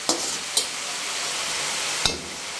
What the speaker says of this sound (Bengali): আর আসলাম দর্শক, করলা ভাজিটা নেড়ে দেবো।